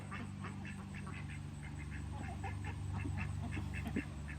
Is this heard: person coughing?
no